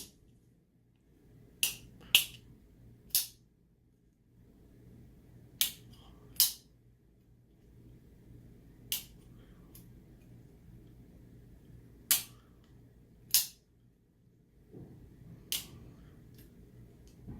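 Spyderco Manix 2 Exclusive folding knife with S90V steel being flicked open and closed, about a dozen sharp, close clicks and snaps spaced irregularly over a quiet background.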